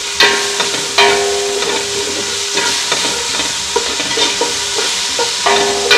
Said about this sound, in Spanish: vamos a dejar sofreír un momentico.